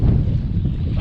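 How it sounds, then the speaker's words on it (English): Wind rushes over a fishing boat on the water at Willow Beach, loud and steady, with low buffeting rumble against the microphone. "it is windy"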